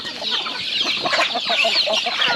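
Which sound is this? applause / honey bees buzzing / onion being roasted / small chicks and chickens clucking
small chicks and chickens clucking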